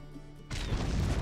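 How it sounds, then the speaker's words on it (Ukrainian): Artillery shot in the Men of War war game, a sudden loud crashing boom that cuts in after a quieter moment and rolls on with a broad rumbling roar. "Зараз буде постріл чудовий."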